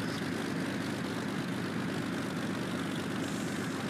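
A Supermarine Spitfire's piston engine in the X-Plane flight simulator drones steadily at low power after being throttled down, a constant even rumble that holds throughout with no voices.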